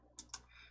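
Two quick, faint computer keyboard clicks, pressed close together for the Alt+S save shortcut, with near silence around them.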